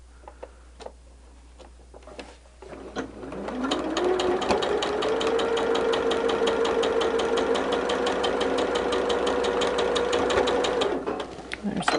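A sewing machine stitches quilt block pieces for a barn star sampler. It starts after a few quiet seconds, runs as a loud, rapid, steady mechanical whir with ticking needle strokes for about eight seconds, then stops.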